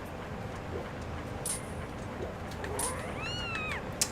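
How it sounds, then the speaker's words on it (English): A cat meows in the video game Zelda Skyward Sword HD, sounding as several separate rising and falling calls that grow more drawn out toward the end, set over a steady low ambient game backdrop. "Oh, it's the cat."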